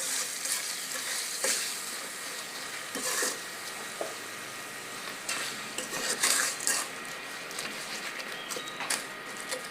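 Ground coriander and garam masala stirred in a pan, soft sizzling with irregular scrapes and light clinks of a utensil against the metal, fairly quiet and close, no voices.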